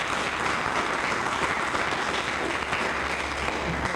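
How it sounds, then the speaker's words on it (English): An audience at a workshop's final session claps for the support staff, a dense, continuous wash of applause that holds steady and fairly loud for the whole stretch. "So again, let's clap to them."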